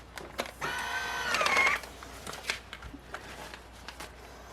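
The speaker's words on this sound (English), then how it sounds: "we're going to press the seal button" A Food Saver V4840 vacuum sealer starts heat-sealing a plastic bag end, giving a steady mechanical whir with a rising whine for about a second, followed by faint clicks and handling noises.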